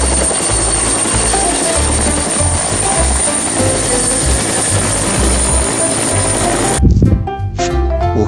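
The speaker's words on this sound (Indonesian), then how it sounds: "helikopter." A helicopter's rotors and engine make a loud, continuous chopping roar that fills most of the stretch, then drops off abruptly, leaving quieter, brighter music-like sounds.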